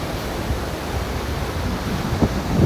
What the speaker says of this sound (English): Here comes a nice wave right here.